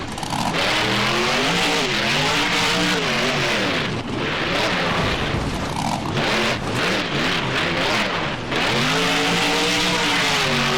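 A monster truck engine revs hard and keeps surging while the truck spins donuts in a BeamNG stadium freestyle, loud and continuous with rising and falling pitch sweeps and no voices.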